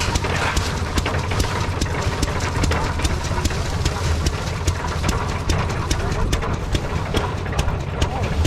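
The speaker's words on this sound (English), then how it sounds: "Hit and miss engine." A small hit and miss engine runs at a threshing show, a steady rapid chugging beat under constant crowd and machinery noise, with talk mixed in.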